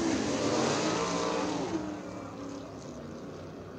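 USAC sprint cars rolling slowly as a pack behind a pace truck through turns 3 and 4 at Lawrenceburg Speedway, a steady broad engine rumble that swells early and then eases to a lower, even drone.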